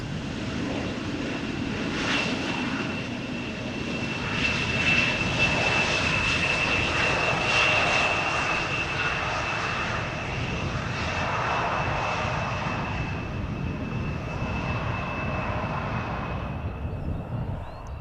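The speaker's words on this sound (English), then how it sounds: "Got one airplane having passed us already, another one is in the process of passing us." A fixed-wing airliner passes overhead near Schiphol Airport in the Netherlands, its engine roar steady and fairly loud, swelling and easing over many seconds, with a high whine and wind-like outdoor noise.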